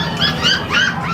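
A Pakistani bully dog at the Sonpur Mela dog market gives a few close whining, yelping cries in quick succession over a busy low background.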